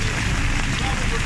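Heavy rain pouring in Luang Prabang, Laos, a dense, steady hiss of drops hitting surfaces, loud and unbroken across the whole moment.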